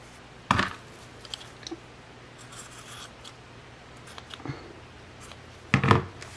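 Scissors cut through the looped threads of a tassel for a handmade graduation card: three quiet, sharp snips spaced a few seconds apart over a faint background hiss.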